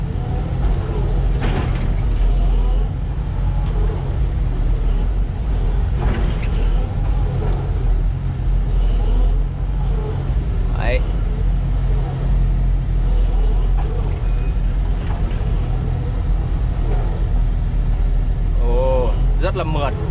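A 2011 Doosan DX140 excavator engine runs at a steady low rumble, with some clanks and mechanical sounds from the machine, close and continuous throughout.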